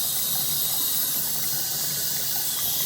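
Water runs steadily into a bathroom sink, producing a continuous close rushing and gurgling hiss with faint bubbling from the drain, no voices present.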